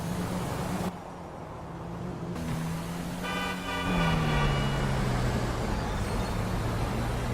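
Car driving in a heist-mission video game: a steady, loud engine drone runs throughout, with a short horn-like toot partway through and no talking.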